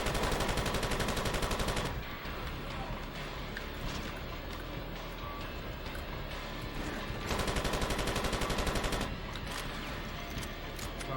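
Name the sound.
gunfire from the video game Far Cry Instincts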